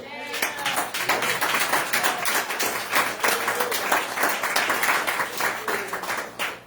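A church congregation at a Sunday service in Baltimore claps and applauds to acclaim the Lord, steady rhythmic clapping from many hands that fills the room with voices mixed in.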